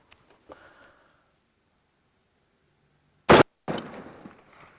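A single sharp rifle shot rings out at a steel target 200 yards away, one loud crack followed moments later by a faint clang and rustling, after a quiet stretch with soft handling noise.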